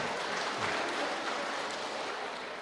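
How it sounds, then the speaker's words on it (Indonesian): Applause for the organizing committee at a women's Christmas celebration in an HKBP church hall, a steady broadband patter of hands filling the room at moderate level. "Kita tepuk tangan dulu buat panitia."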